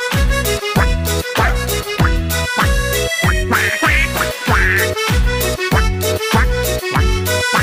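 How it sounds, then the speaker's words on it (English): Domestic ducks quack loudly in a steady, regular series of about a dozen nasal calls, close and clear with no talk over them. "Quack, quack, quack, quack, quack, quack"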